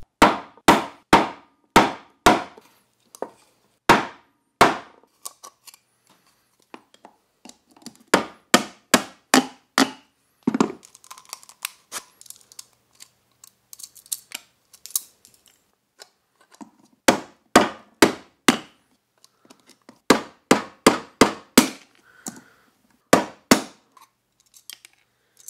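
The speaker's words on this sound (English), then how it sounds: "let's drill some holes to create some fracture points, then using a flathead screwdriver, we'll chisel some cracks to break it off" Plastic Nerf ThunderHawk blaster backplate being worked with a drill and a flathead screwdriver used as a chisel: sharp, rapid clusters of hard knocks and taps in repeated bursts, with short quiet gaps between them, close and loud.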